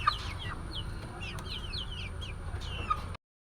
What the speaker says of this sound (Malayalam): ഇതാണ് എൻ്റെ കോഴിക്കുട്ടന്മാർ.